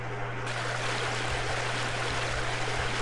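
Murky water in the video game Half-Life: Blue Shift gives a steady, continuous rushing and trickling wash that holds evenly throughout, with a low hum underneath and no talk.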